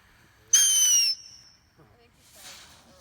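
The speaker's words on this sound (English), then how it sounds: "Is that a firework in your hand?" A firework fired at night gives a sharp whistling screech lasting about half a second, then a few faint crackles and a soft hiss trailing off at a distance.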